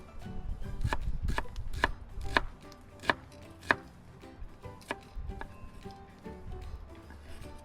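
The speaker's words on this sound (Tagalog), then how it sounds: "So, ganyan lang pagkahiwa ng ating sibuyas" A knife chops onion on a cutting board in a home kitchen, sharp distinct strikes in an uneven rhythm, roughly a dozen close cuts with brief pauses, no talking.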